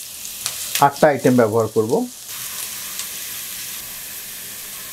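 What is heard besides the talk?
green chillies sizzling as they are added to the pan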